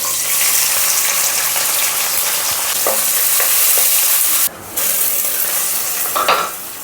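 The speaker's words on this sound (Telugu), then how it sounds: "ఇప్పుడు ఇదే కడాయిలో అదే ఆయిల్లో జీలకర్ర కొద్దిగా ఒక రెండు చిన్న ఉల్లిగడ్డలు తీసుకొని ఇలా కట్ చేసుకొని పెట్టుకొని వేసుకోవాలి" Cumin and two small chopped onions fry in oil in a kadai, giving a steady close sizzle with a few stirring scrapes and clinks throughout, while no one speaks.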